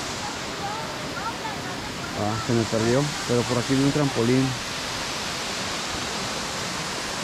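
Steady rushing water of the Minas Viejas waterfalls in the Huasteca Potosina, a broad constant roar throughout, with a person talking briefly in the middle over the falling water.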